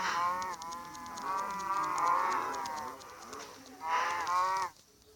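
Cattle moo loudly and close by, one long drawn-out low call followed by a second shorter moo before it cuts off abruptly.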